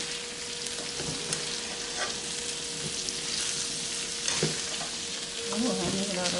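Chicken stir-frying in butter for brown stew chicken, a steady close crackling sizzle with faint clinks of stirring throughout.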